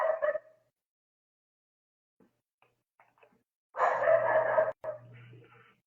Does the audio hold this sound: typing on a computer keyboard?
no